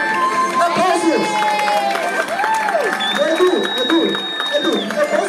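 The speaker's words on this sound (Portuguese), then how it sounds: "Aplausos!" A cosplay parade crowd applauds and cheers steadily for a Naruto cosplayer, with a continuous wash of clapping and voices and a whistle-like tone rising briefly above it.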